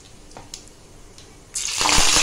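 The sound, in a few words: cumin seeds sizzling in hot oil for tempering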